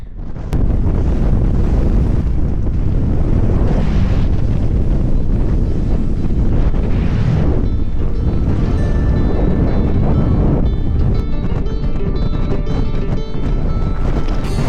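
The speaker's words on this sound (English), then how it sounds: "It is windy." Strong wind on a mountain summit in the Yorkshire Three Peaks roars and buffets against the microphone, gusting continuously with no one speaking.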